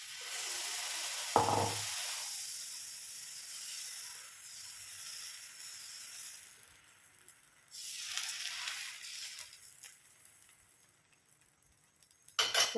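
Soft sizzling of tomato wheat dosa batter on a hot pan, a faint steady hiss with a brief clatter early on and a later swell of frying, quiet throughout with no talk.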